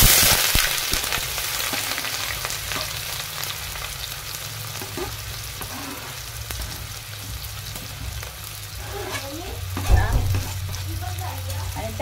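Chopped onion hits hot mustard oil for a spicy crab curry, giving a loud, continuous close sizzle with a few clatters of the pan and spoon near the end. No one speaks.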